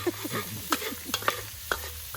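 Sliced onion sizzles and crackles in a hot pan while being stirred, with sharp clicks of a utensil against the pan at a few points over a steady frying hiss, no voices.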